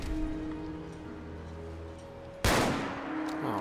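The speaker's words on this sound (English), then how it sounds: "Sounds like turrets on the opposite side of the base." Turrets firing across a base in Fallout 4, heard as a sudden loud burst of gunfire over steady game ambience, with no one talking.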